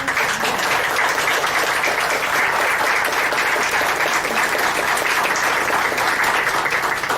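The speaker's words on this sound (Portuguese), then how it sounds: "Essas palmas não são para mim, são em homenagem a essas pessoas que deram a vida" A large audience claps steadily in homage at a lecture, a dense, even wall of applause that stays loud and unbroken throughout.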